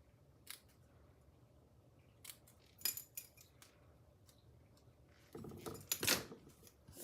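Scissors trimming Halloween card paper give a few sharp, faint snips spaced across a quiet room, with a louder cluster of cuts and paper rustle near the end.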